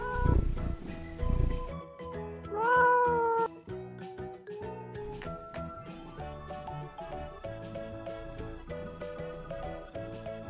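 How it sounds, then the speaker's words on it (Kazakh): A cat meows once, a short rising wail heard over bright background music with steady plucked and tapped notes. "Мяу дейді."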